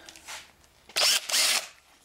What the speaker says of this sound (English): I'm going to grab my drill motor